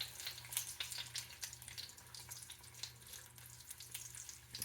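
Thinly sliced potatoes frying in extra virgin olive oil for a Spanish tortilla give a steady, close crackling sizzle with scattered pops and a low hum beneath, no voices.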